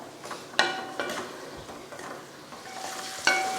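Boiled eggs sautéing in oil in a pan for an egg curry, with a soft sizzle under a few sharp metallic clinks and scrapes of stirring.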